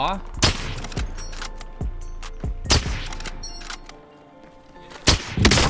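Gunfire in Warzone Pacific, including an AWM sniper rifle, comes as several sharp, loud shots spaced irregularly, some near and some farther off, with voices talking between them.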